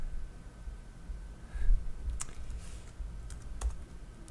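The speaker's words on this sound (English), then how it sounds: "I enter my email and password and hit log in." Light clicks on a computer keyboard come in a few scattered bursts as an email and password are typed, close but quiet over a faint background hiss.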